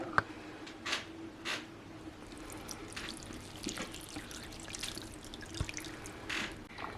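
Water trickles and drips from the bottom of a houseplant pot after watering, a soft, uneven run of splashes and drops in a quiet indoor space, with no voices.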